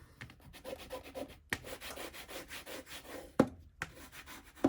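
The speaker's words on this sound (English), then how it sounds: "Oh yeah, burnishing." Fabric glued onto a journal cover is burnished by hand, giving steady close rubbing and scraping strokes in quick repeated passes, broken by a couple of short pauses and sharp taps.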